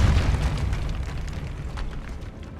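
A Depulso spell cast in Hogwarts Legacy lands as a loud, booming blast with a heavy low rumble that slowly fades and trails off over a couple of seconds.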